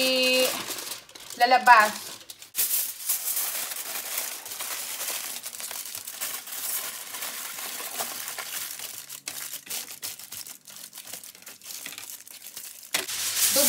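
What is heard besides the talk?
wrapping pork belly in aluminum foil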